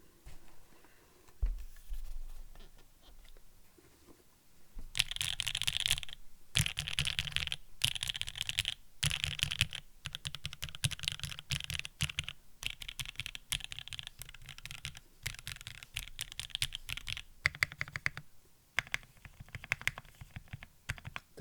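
Typing on a Sangeo65 mechanical keyboard: after a quiet start, bursts of rapid clacky keystrokes come close and crisp in irregular runs, separated by brief pauses, with no talking.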